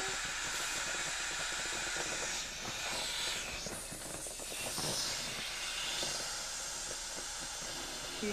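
Air hisses out of a deflating beach ball in a long, steady rushing stream of noise, fairly quiet and continuous with slight surges, without any voices.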